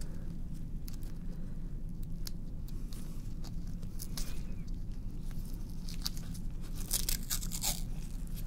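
Medical tape being pulled and torn during a blood-draw demonstration, heard as close, crisp ripping and crackling bursts scattered through quiet handling noise, the sharpest tears near the end.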